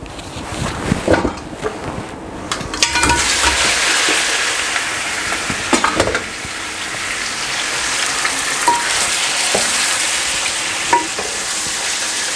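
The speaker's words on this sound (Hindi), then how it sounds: "अभी चिकन को मैं अच्छी तरह फ्राई कर लूँगा जब तक अच्छी तरह ब्राउन हो जाएगा" Two kilos of chicken frying in a pot with yogurt and ginger-garlic paste for degi korma, a loud continuous sizzle broken by repeated clanks and scrapes of stirring.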